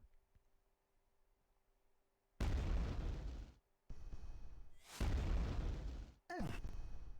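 Rocket blasts boom in a Quake 2 tournament match, with two heavy explosive bursts separated by short gaps of quiet, followed by a third shorter burst, each loud and close with a rumbling low end and no voices.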